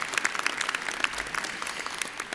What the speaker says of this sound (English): I think that also deserves a little bit of applause.